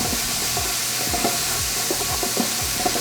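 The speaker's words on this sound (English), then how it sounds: "We're going to cook the vegetables so they're slightly tender." Diced celery and carrot sizzle steadily in a pot for an Italian marinara base, a dense hiss with repeated scraping strokes of stirring, close and loud with no talk.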